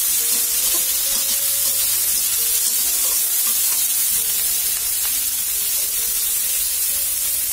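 Garlic sizzles steadily in hot oil for a spinach and taro-leaf curry, a dense continuous frying hiss with occasional spoon stirs, close and loud throughout.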